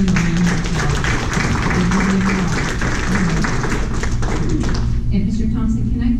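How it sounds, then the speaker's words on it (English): A room of people at a school board meeting claps for recognized staff and students, a loud continuous patter with some voices mixed underneath, tapering off near the end. "Give them a round of applause."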